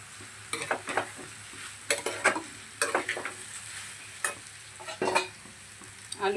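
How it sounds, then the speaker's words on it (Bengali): Potatoes sizzling in a frying pan for dinner while being stirred, with a steady hiss of hot oil broken by repeated scraping and clinking strokes of a spatula, close and continuous, no voices. "আর এখানে দেখো আলু ভাজা বসিয়েছি"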